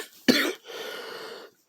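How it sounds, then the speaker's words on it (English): A person gives a single sharp cough close to the mic, followed by a brief raspy throat-clearing exhale, with no talking. "Sorry about the coughing"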